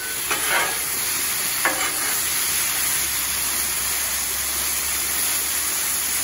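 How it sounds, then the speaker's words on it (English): Sausage, peppers and potatoes sizzle loudly and steadily on a Blackstone griddle, a dense continuous hiss with a couple of brief spatula scrapes near the start. "Listen to that sizzle."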